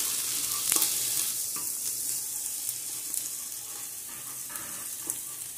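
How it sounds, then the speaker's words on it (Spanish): Garlic cloves browning in a pan, with onion, sizzle in a steady, fairly quiet frying hiss and a few light stirring clicks. "Vamos a estar dorándolos muy bien para que, como siempre, nos dé el sabor que nos da lo que es la cebolla y el ajo"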